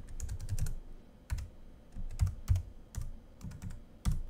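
Someone types a remove command in a terminal on a computer keyboard, with a few quick irregular clusters of close, crisp key clicks separated by short pauses, and no talking.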